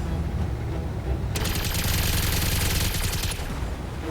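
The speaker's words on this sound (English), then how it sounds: "Lots of machine gun fire." Machine gun fire in the mech combat game Battletech, a dense rapid burst of rattling shots that starts abruptly and runs for about two seconds over a constant low battle rumble.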